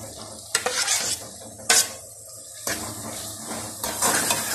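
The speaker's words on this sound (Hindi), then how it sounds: "थोड़ा सा मसाला भून लूँ" Masala frying and sizzling in a pan, punctuated by several sharp scrapes and clanks of a spoon stirring against the metal, with a steady sizzle underneath.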